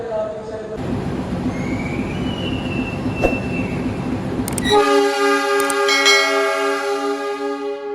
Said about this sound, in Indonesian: ini perjalanan kereta api Sangkuriang telah tiba di stasiun Sidoarjo